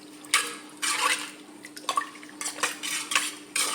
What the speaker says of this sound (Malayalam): എന്നിട്ട് നമുക്ക് നല്ലോണം ഇളക്കാവേ